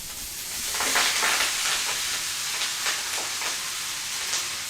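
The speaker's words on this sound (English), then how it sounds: "Let the butter warm through before adding the mustard leaves." Ghee and mustard leaves sizzling in a pan with turmeric, a steady, fairly loud frying hiss with soft crackles throughout.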